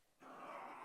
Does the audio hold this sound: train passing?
no